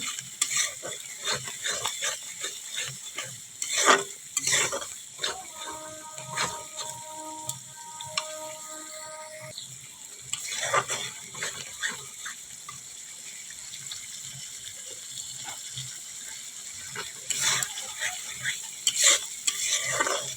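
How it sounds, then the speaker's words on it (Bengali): Ground chili, turmeric, cumin and coriander fry in oil while being stirred, giving a soft sizzle broken by repeated scraping and clattering strokes, with a faint tonal hum partway through. "লঙ্কা গুঁড়ো, হলুদ গুঁড়ো আর জিরে ধনে গুঁড়ো দিলাম। দিয়ে আবার একটু কষিয়ে নেব"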